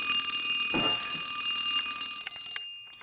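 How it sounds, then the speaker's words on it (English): A vintage brass telephone bell rings continuously with a bright metallic tone, close and steady, with a few knocks and clicks near the end. "I want to hang the phone up and I want to ring the bell."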